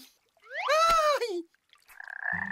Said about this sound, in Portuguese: É uma rã!